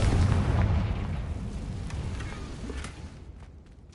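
A Confringo fire spell explodes in Hogwarts Legacy, a loud rumbling blast at the start that slowly fades into a decaying roar.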